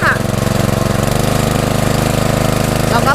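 A Kayana 3-cylinder 7.5 hp petrol engine sprayer pump runs steadily up close, a loud, even chugging throb with a rapid regular pulse throughout, as someone talks over it.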